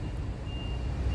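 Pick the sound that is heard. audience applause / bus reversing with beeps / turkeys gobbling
bus reversing with beeps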